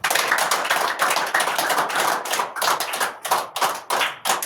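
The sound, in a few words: children clapping their hands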